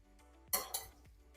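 Utensils clinking against a bowl while a Greek salad dressed with olive oil is tossed, two sharp clattering bursts close by in a quiet kitchen.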